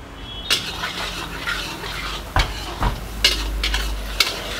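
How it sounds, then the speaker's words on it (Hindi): Chopped tomato frying with spices in a pan, a steady close sizzle with a few sharp scrapes and clinks of a spoon stirring, no voices. "इसमें हम टमाटर को थोड़ा सा भूनेंगे।"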